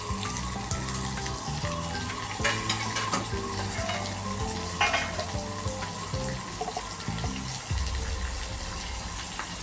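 Onion and tomato fry in a small pan for a jackfruit-seed vegetable dish made with dried shrimp, giving a steady close sizzle under repeated spoon scrapes and stirring clinks, with no one talking.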